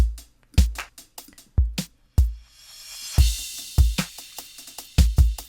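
A punchy drum beat with deep kicks and snappy hits, crash cymbals washing in partway through and a light shaker layered on top.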